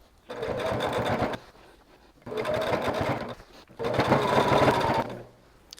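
Sewing machine quilting a batik throw, three sustained bursts of fast, steady needle stitching separated by short pauses, close and fairly loud, with no voices.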